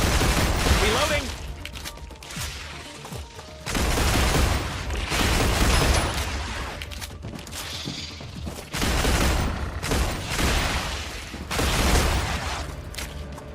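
Pistol fire in the sci-fi factory game StarRupture, heard as bursts of shots spread through dense, noisy combat with rumbling low end that swells and fades in waves over several seconds.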